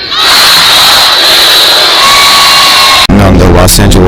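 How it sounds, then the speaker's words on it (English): A packed Lakers basketball arena crowd chanting Taco Tuesday, a roaring wall of massed yelling and cheering that cuts briefly, then returns with rhythmic shouted chant. "He's got the whole crowd yelling Taco Tuesday"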